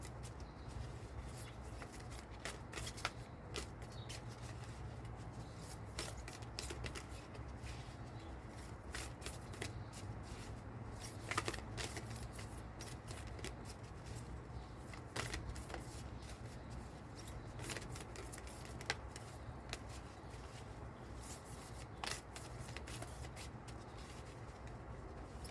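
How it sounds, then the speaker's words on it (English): A deck of tarot cards is shuffled by hand in a quiet room, with soft repeated riffles and crisp snaps as the cards are cut and squared, faint and close, without talking. "One more shuffle."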